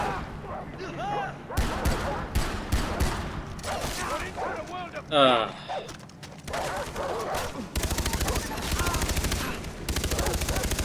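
Rapid bursts of gunfire from Far Cry 3 crackle steadily through the scene, with sustained automatic volleys in the later half, mixed with game effects and a voice speaking.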